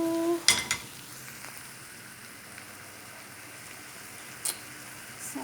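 Salmon stir-fried with spring onion and chili hisses in a faint, steady sizzle, broken by a few sharp clanks of utensils against the pan near the start and again toward the end.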